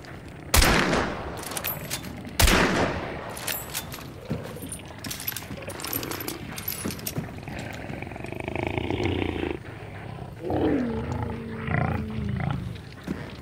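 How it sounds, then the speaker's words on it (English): Hellhounds growl and snarl in Hunt Showdown after two sharp gunshots, the low rumbling growls rising later among scattered shooting and faint talk. "My problem is the hellhounds are right out here."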